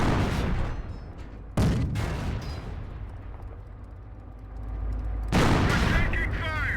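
Tank battle in Company of Heroes with heavy gunfire and explosive blasts, a sharp loud burst early, a rumbling lull, then another loud volley near the end.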